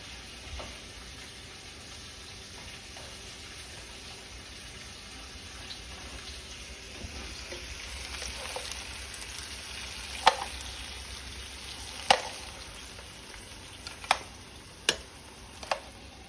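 Beef short ribs searing in a pan, a low steady sizzle, quiet and close, with a few sharp clicks and taps near the end and no talk.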